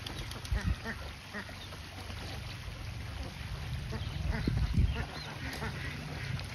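Khaki Campbell and CP-cross laying ducks quack as they swim in a shallow farm pond. Their calls are close, with repeated overlapping bursts over steady background noise.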